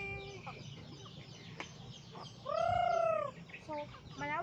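Chickens clucking nearby, a series of short clucks followed by a longer drawn-out call and a few quick trailing notes.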